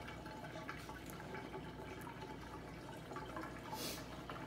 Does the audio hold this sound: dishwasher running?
yes